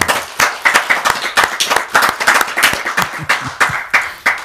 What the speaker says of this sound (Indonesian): yuk tepuk tangan dulu buat Kiai Haji Imaduddin Uthman